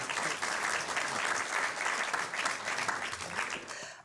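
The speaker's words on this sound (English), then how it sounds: "Please give her a round of applause." A dense, steady round of audience applause fills the room for a speaker being introduced at an Osher UCSD talk, continuous and even for four seconds with no voices over it.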